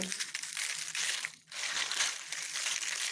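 Sun-dried ripened green chillies crunch and crackle as they're crushed by hand, a continuous close-up crinkling broken by one brief pause in the middle.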